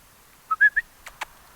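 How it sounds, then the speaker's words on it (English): A person whistles to a dog during leash training: three short rising whistle notes close together, followed by two brief soft clicks or taps. "And I whistled too."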